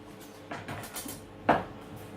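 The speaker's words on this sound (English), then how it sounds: "I'm just going to chop my onions up" Onions being chopped on a board for a slow-cooker chicken curry, heard as a few sparse, fairly quiet knife knocks spaced about half a second apart, with no talk.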